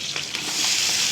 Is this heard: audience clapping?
no